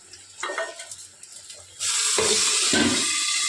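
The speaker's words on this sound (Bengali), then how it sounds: "এই যে তেলে দিয়ে দিলাম বেগুনগুলো একটু ভাজা হোক" Eggplant pieces dropped into hot oil to fry for khichuri, breaking into a loud, steady sizzle after a few soft kitchen knocks and continuing without talk.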